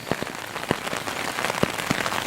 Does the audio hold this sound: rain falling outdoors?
yes